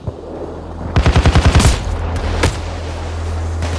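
Gunfire in the video game Payday 2 during a downtown transport heist, with a loud rapid burst of automatic fire followed by single sharp shots over a constant rumbling background of engine drone.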